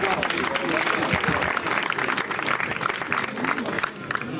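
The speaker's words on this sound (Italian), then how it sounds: "ringraziamo un applauso a due giovanotti di Assara" Crowd applause for two young men from Atzara at an evening folk singing event in Sardinia, steady dense clapping mixed with crowd voices, fading slightly near the end.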